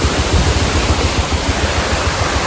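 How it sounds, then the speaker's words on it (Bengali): A roadside mountain waterfall swollen by monsoon rain roars as a loud, continuous rush of water close by, with no voices and no breaks. "এই ঝর্ণার আওয়াজ পাওয়া যাচ্ছে এখন"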